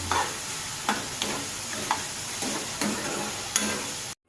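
Steady sizzle of tomatoes and cashews sautéing in a pan, with a few sharp clicks and scrapes of stirring at irregular intervals, no voices.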